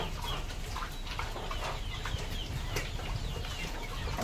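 Hens clucking around a backyard chicken pen, a dense ongoing chorus of soft clucks and murmurs with occasional wing flutters, moderately near and steady throughout, no talking.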